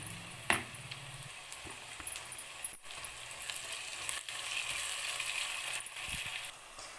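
Sliced onions fry in oil in a pan while being browned for an onion egg masala curry, giving a soft, steady sizzling hiss with a few faint clinks and stirring scrapes, quiet and without talk.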